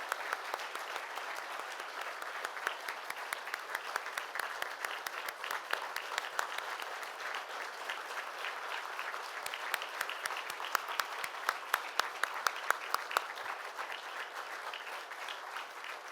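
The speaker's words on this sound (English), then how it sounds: "Deborah, can you please stand for a minute and receive our applause for leading the fight?" Audience at the National Press Club inauguration of its 117th president gives sustained applause for Deborah, a dense, steady wash of many hands clapping that swells slightly toward the end.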